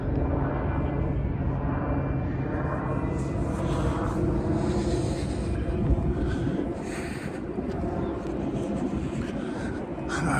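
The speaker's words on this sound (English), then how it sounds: "That helicopter up there just..." A steady, loud rumble of a tour helicopter passing over a park in Coconut Grove, filling the air with continuous low droning and rotor wash, no voices.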